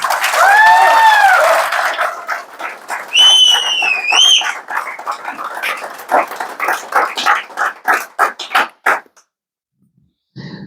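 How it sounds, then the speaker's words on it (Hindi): An audience at a KGF Farming meeting claps as the cheering fades, with high whistle-like cries over the first few seconds and then scattered claps that thin out and stop near the end. "उसके लिए तालियां बजाओ।"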